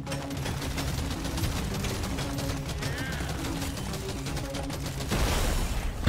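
Projectile weapons fire rapidly in the Deep Rock Galactic Survivors video game, a dense, steady stream of shots over game music, with a louder burst near the end.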